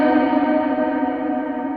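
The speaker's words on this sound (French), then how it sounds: "là j'ai une reverb normale." A sustained tonal sound processed through a normal reverb preset in REAPER's ReaVerb plugin, with a dense harmonic wash ringing steadily and evenly at moderate loudness, with no talking.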